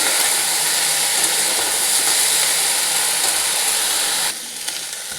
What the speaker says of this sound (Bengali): দেখুন, বেশ কিছুটা ভাজা হয়ে গেছে।